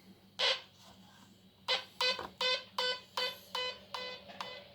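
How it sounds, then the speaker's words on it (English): Repeated electronic beeps from a Science Fair 100-in-1 electronic project kit built as a modulated tone transmitter, about seven short bursts in an uneven rhythm over a low steady hum, fairly faint and close. "I'm getting a beep. There we go."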